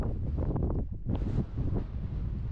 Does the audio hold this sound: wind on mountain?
yes